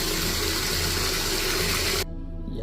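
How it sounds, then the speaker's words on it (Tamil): Water poured over a Shiva lingam during an abhishekam, a loud, rushing splash and gush that runs steadily and then cuts off abruptly, leaving a quiet trickle and faint background hum. "தண்ணியில் அபிஷேகம் பண்ணிடுவோம்."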